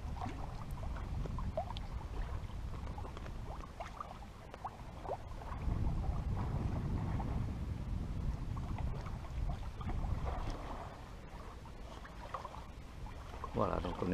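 A sailing boat under sail in a steady breeze off the Mediterranean coast near Saint-Tropez and Porquerolles, with continuous wind rush and water washing along the hull, fairly quiet and sustained.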